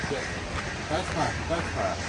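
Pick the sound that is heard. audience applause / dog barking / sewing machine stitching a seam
dog barking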